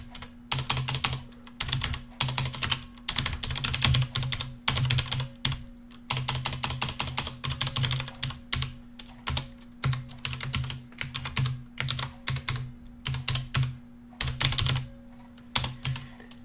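Steady, rapid typing on a computer keyboard while writing COBOL code, with clicky keystrokes in quick bursts and short pauses over a constant low hum, near and clear.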